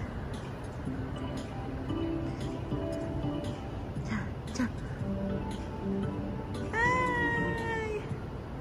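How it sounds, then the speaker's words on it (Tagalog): Cat meowing in a video game, a single rising mewl near the end over a busy bed of game music, effects and a speaking voice. "I made a cat!"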